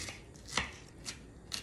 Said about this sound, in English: Okay, I cut up a little bit of onions.